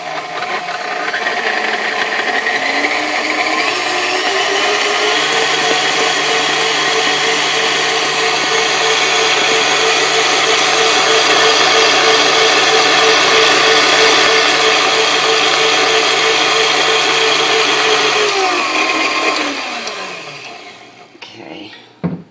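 A stand mixer with a whisk attachment runs on low while whipping powdered sugar frosting for a Mississippi mud cake. Its loud, steady motor whir continues for about twenty seconds, then winds down and stops.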